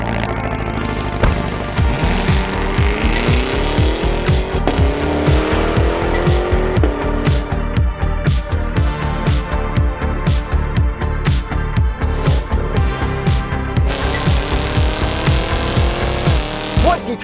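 A 2023 Cadillac Escalade V launching hard under launch control, its loud engine roaring up through the revs with rapid rhythmic pulses and a rising pitch, heard close inside the cabin.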